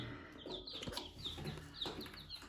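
High, thin chirps of chicks repeat steadily at close range, several peeps overlapping over a soft background with no talking.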